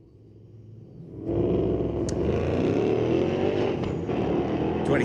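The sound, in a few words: 2013 Ford Mustang drag racing a Chevrolet Silverado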